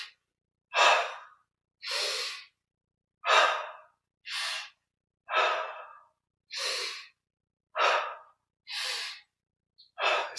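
Slow, steady breathing during a guided meditation exercise, about eight separate breaths spaced roughly a second apart, each a soft airy rush that swells and fades, close to the microphone with silence between them.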